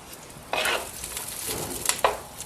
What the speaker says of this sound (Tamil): எல்லாம் பக்குவமா வதக்கணுங்க. தீயாம ஒரு மாதிரி கலர் மாறுற வரைக்கும், அந்த பச்சை வாசனை போற வரைக்கும் வதக்கிக்கணும்.